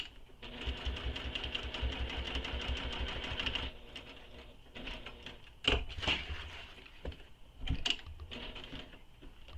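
A sewing machine stitches a backpack seam in rapid mechanical bursts, a steady whirring run followed by shorter starts and stops with clicks as the fabric is turned, close by.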